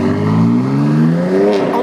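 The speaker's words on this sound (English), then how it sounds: "the M Sport exhaust system comes as standard with the competition models and gives these powerful vehicles an even more emotional and distinctive sound" A BMW X3 M or X4 M competition model revs through its M Sport exhaust, with a loud engine note rising steadily in pitch as it accelerates and no talk over it.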